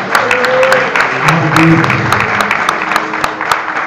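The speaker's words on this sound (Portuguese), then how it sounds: "Quem pode bater uma salva de palmas para o Senhor, que somente Ele é digno." A church congregation claps for the Lord during a youth campaign service, scattered sharp claps over a murmuring crowd while a voice speaks over it.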